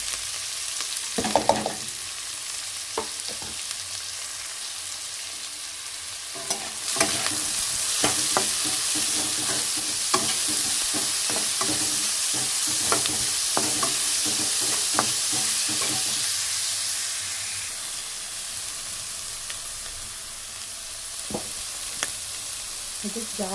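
Chopped onions and green chillies frying in a pan for a drumstick flower palya, a continuous close sizzle with repeated clicks and scrapes of stirring, swelling loudest in the middle before easing, no speech.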